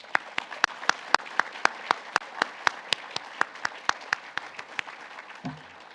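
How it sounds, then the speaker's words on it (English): Convocation audience claps in a sparse, fairly distant patter, a handful of hands with crisp individual claps ticking at a steady rhythm, fading to near silence with a faint thump at the close. "Let's give them a huge round of applause."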